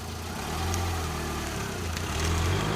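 A car's engine running as it moves along a winding country path, a steady low mid-pitched drone that swells slightly, heard close with no voices.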